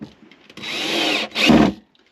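A cordless power drill drives screws into a log being built into a rocket stove, two close, loud whirring bursts separated by a brief pause, the second deeper as the screw bites into the wood.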